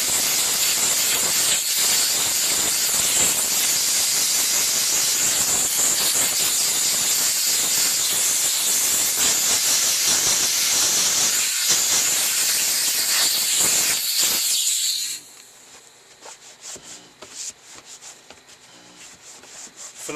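A steam cleaner blasts a loud, continuous hiss into a car seat's C-track, blowing out debris and dirt. It cuts off abruptly near the end, leaving quiet handling noises.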